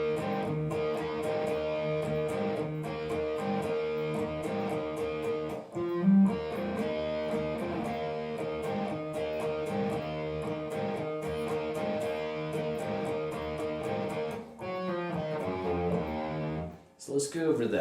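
Distorted electric guitar plays the verse of a song, a dense, sustained chordal riff with steady strummed attacks, moderately loud and continuous, with a short pause before the final bars.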